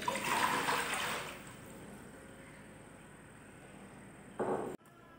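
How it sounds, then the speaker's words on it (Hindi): Water pours for cooking, a bright rushing splash for over a second that tapers into a soft steady trickle, then a brief louder burst near the end before stopping. "पहले पानी लेंगे।"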